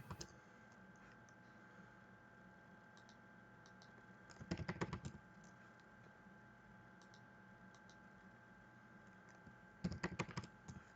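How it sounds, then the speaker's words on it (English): Faint, distant typing on a computer keyboard: two short bursts of rapid clicking keystrokes separated by several seconds of quiet hum. "just typing in my fun little pun time"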